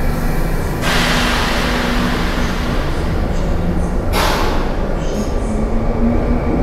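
A TLK Karkonosze sleeper train pulls out of a station with a loud, steady rumble of wheels and carriages, heard close from inside a wagon, with faint squealing tones and a couple of sudden surges of rushing noise.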